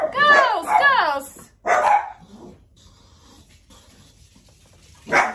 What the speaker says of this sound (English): No need for barking.